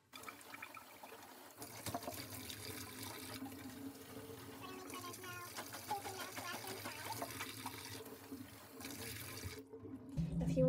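Running tap water splashing over a plastic milk jug as it is washed, a steady close rush with shifting splashes throughout, ending in a louder burst.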